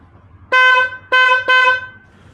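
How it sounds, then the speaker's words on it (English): An old horn taken from a Toyota Corolla sounds during a bench test while a wiring fault is traced: three loud, close honks, the first and second about half a second long and the third slightly longer, over a faint low hum. "I'm testing my old horn. This one I had it from my Corolla"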